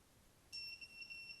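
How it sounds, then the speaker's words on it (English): VIFLY Finder 2 drone buzzer switching off, sounding steady high-pitched electronic beeps that start abruptly and continue in quick succession, fairly faint and alone. "You get 3 little confirmation beeps."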